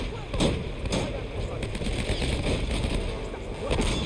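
Gunfire from the video game Uncharted: Drake's Fortune, with several sharp shots and bursts spread across a dense, noisy battle mix, loud throughout under the game's ambient rumble.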